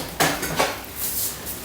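Spatula scraping hot peanut brittle off a Thermomix mixing bowl lid, two quick close scrapes followed by a rougher lighter rasp, short and fairly loud, with no talking.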